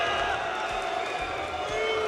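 Esports arena crowd at a DreamHack Masters Counter-Strike quarter-final cheering for Mousesports, a sustained roar of distant cheers and whoops from a large audience with a voice speaking over it.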